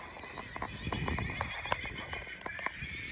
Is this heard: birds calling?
no